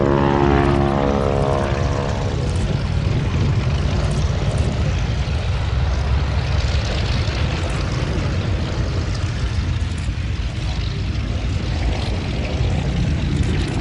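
Radial-engined Stearman biplane flying a display at an airshow, its loud droning propeller roar steady and close throughout, with wing-walking taking place on the aircraft.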